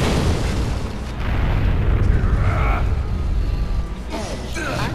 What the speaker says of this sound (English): Oh, this is gonna be one hell of an explosion.